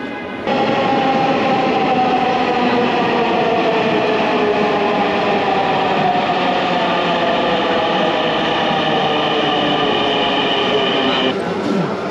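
Ride inside a Dhaka metro train carriage, with a loud, steady rumble and high electric whine that swells after departure and holds constant, heard up close.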